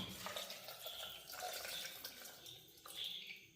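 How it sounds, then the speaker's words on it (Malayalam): Water pours steadily into a cooking pot for chicken soup, a continuous hissing splash with slight shifts in pitch, fairly close and moderately loud, with no talking. "പിന്നെ അതിലേക്ക് വെള്ളം കൂടെ ഒഴിക്കണം"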